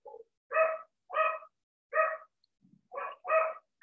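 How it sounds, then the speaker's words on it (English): A small dog yaps in a quick series of five sharp barks, slightly distant, spaced irregularly across a few seconds with silence between them and no talking. "There's my dog again."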